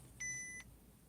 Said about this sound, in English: that was my camera beeping off